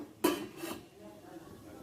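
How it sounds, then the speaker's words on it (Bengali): A metal lid goes onto a frying pan where katla fish and brinjal cook in oil, two quick clanks close together followed by a faint sizzle. "ঢাকা দিয়ে দিলাম"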